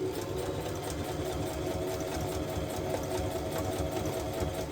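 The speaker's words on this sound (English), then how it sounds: "It's actually easier to sew through this than I thought it would be." A sewing machine drives through thick, tough material, a steady close hum with a fast repetitive needle rhythm running unbroken throughout.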